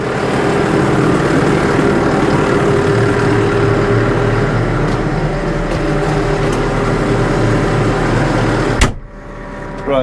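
A Claas Arion 470 tractor engine idles with a steady, loud low drone and faint mechanical chatter for most of the stretch, then it cuts off abruptly near the end, leaving quieter background.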